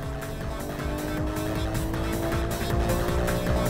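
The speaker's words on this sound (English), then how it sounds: "here goes Taku cutting to the inside of Big Papa with good braking" Race cars on a track braking hard in a close battle, engines droning steadily with tires squealing and skidding throughout, fairly quiet and continuous.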